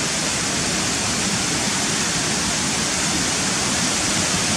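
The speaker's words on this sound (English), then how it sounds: "But there's the waterfall coming down through the ivy coloured trees there." A waterfall pours steadily into a pool below through ivy-covered trees and white rapids, a dense, unbroken roar of rushing water close by with no voices.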